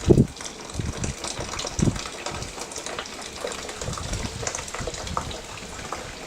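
Water gushes and trickles through a copper coil heat exchanger in a home brewing setup, with irregular splashy bursts near the start and a steady, moderately loud flow throughout.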